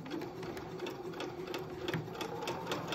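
A sewing machine stitches fabric for a face mask with a fast, steady mechanical whirring and rapid needle chatter, close and continuous throughout, with no talking.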